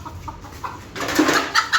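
Backyard chickens from a small flock of about twenty hens and two roosters cluck in short bursts close by, with a louder run of calls in the second half.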